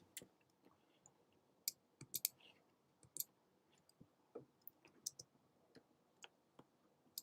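Mechanical keyboard keys clicking in irregular bursts of sharp, light clacks, close by and fairly quiet, with no talking.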